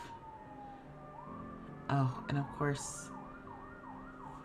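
An ambulance siren wails through repeated rising and falling sweeps at a distance while people talk nearby, their voices breaking in briefly over the steady siren.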